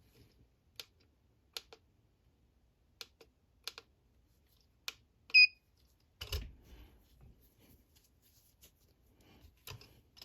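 Smith & Wesson Model 19-3 K-frame revolver being dry-fired in double action, giving a steady series of sharp, close mechanical clicks about once a second, with a short electronic beep midway and some handling rustle afterward.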